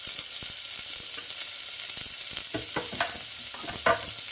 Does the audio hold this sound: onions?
yes